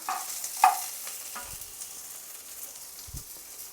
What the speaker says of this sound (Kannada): ಕರಿಬೇವು ಅಷ್ಟೇ ಚೆನ್ನಾಗಿ ಎಣ್ಣೆಗೆ ಫ್ರೈ ಆಗಲಿ